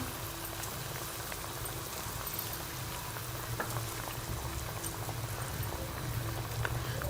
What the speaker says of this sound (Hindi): पानी में बॉयल आ चुका है।